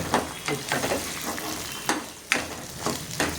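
Small garlic cloves, tamarind and spices sautéing in a pan, a continuous sizzle broken by regular stirring scrapes, close and moderately loud.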